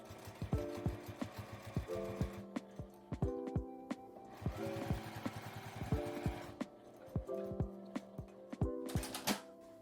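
A sewing machine stitches along the edge of fabric scraps, its needle running in short rhythmic bursts with brief pauses between runs, close and moderately loud, with no voices.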